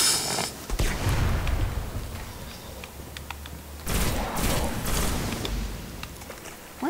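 Bursts of blasts and weapon fire in the video game Destiny, including a heavy grenade explosion with a loud rumbling boom after a few seconds, amid mechanical clanks and gunshots.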